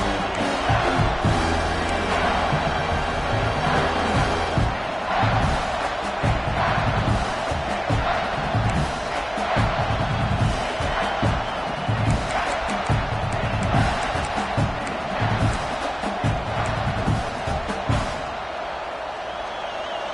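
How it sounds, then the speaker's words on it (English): A football stadium crowd roars and cheers for the home defense in the red zone, a dense, continuous wash of noise with no gaps. "The crowd getting behind this defense as they try to get a stop in the red zone."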